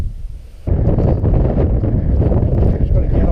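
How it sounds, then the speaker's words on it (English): Strong, cold winter wind buffeting the microphone on Pendle Hill in fog, a heavy roaring rumble that starts abruptly and stays loud and steady, with voices partly buried beneath it. "Wind's picking up"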